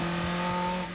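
TVR Tuscan race cars accelerating hard away from the start of a 1995 race, a loud sustained engine roar with steady pitch, close and dense, with no voices.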